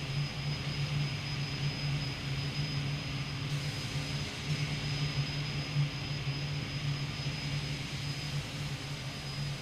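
A simulated Dornier Do 228 twin turboprop in Microsoft Flight Simulator 2024 comes in to land, its engines giving a steady, continuous drone with a low hum that holds unbroken throughout, and no voices.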